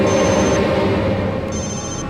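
A telephone rings in a horror thriller scene, a steady electronic trill with a brief pause, then ringing again, heard clearly over a low background hum with no talking.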